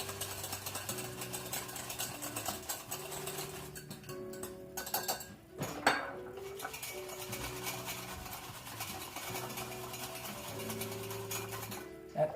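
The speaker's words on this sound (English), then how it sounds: "Take my little whisk, give it a shaky shake shake." Small electric whisk frothing coffee in a kitchen, a faint, steady mechanical buzzing that runs for several seconds with a brief pause in the middle, no talking.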